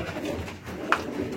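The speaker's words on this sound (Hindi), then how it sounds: "और ये फिरोजपुरी कबूतर।" A Ferozpuri pigeon gives a soft, low coo, close by and brief, over faint background rustle.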